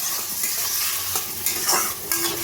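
Raw chickpeas and washed mung dal being stirred in a pan while making a bottle gourd dish, giving a steady close sizzle with soft scraping strokes throughout.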